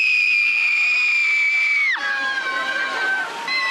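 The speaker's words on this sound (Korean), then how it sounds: "아이들이 악을 쓰듯 소리를 지릅니다." Children at a sensor-triggered fountain scream loudly and continuously in a sustained high-pitched shout, then the pitch drops and more young voices join in a noisy, shrieking crowd.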